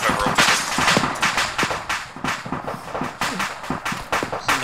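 Rapid gunfire in a combat firefight, a dense run of sharp cracks and bursts in quick irregular succession, fairly close and loud throughout.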